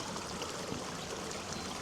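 A clear stream at a campsite rushes and trickles steadily, with close, continuous babbling water and no voices.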